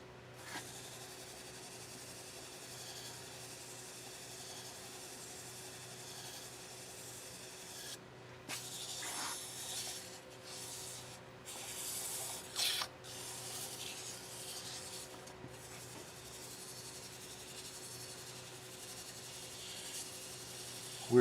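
Faint, steady rubbing of 800 grit sandpaper on a razor stand continues close by for the whole stretch, with a few slightly louder scuffs partway through.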